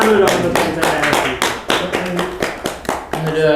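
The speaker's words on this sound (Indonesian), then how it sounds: "Tepuk tangan dulu dong untuk Sensei LC." Studio audience on an Indonesian talk show clapping to welcome a guest, Sensei LC, in separate short bursts with gaps between them, heard together with voices speaking.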